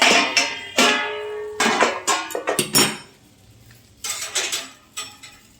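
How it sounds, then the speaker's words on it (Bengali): A lid is set over a tawa griddle pan holding a rolled fish paturi, producing several close metallic clanks and rattles in short bursts separated by quiet gaps. "এবারে এটাকে একটু আমি ঢেকে দেব দেখো এবারে ঢাকনাটা"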